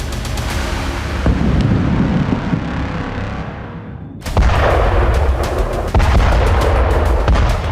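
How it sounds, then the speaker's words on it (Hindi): Israeli air strike explosions in Khan Younis, Gaza: loud rumbling blasts, one decaying into a long roll before a sharp new boom hits, followed by continued heavy rumbling and crackling. "ये खान यूनिस इलाके में आईडीएफ की बेहिसाब बमबारी का एक और वीडियो सबूत है।"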